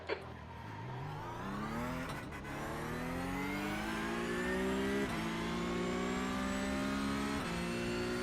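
A supercharged 6.2 liter racing engine in a Porsche Cup racing game revs hard and climbs through gears, a loud continuous accelerating roar with brief shift dips, alone without talk.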